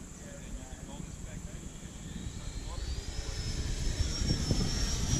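A Freewing T-45 Goshawk 90mm RC jet makes a pass, its electric ducted fan whining into a high, steady rising tone that grows louder toward the end as a person talks over it.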